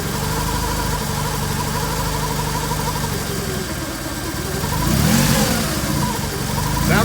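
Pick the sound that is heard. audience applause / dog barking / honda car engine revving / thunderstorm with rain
honda car engine revving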